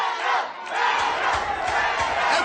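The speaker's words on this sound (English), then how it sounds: "you can hear them cheering on Glenna every step she takes" Crowd of fans cheering and shouting at a fight night, a dense continuous roar of many voices swelling slightly, close and loud throughout.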